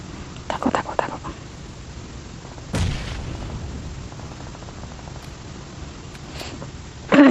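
Sniper rifle shots in PUBG Mobile: a cluster of sharp reports, then a single heavy boom with a trailing echo, and another burst at the end, all over quiet game ambience.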